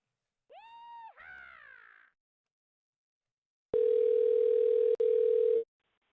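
Telephone call tones: a short rising electronic chirp sequence, a pause, then a loud, steady tone held for about two seconds with a brief break, close and clear with no talk.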